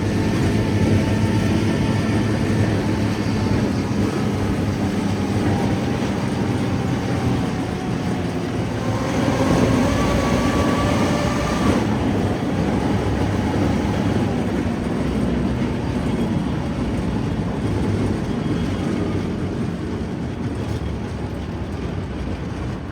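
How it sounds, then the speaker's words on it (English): Riding inside a pristine museum M113 armored personnel carrier, a loud continuous engine and track roar with heavy low rumble and rattling that holds steady throughout, close and enveloping with no pauses. "we headed outside for a ride in the museum's pristine M113"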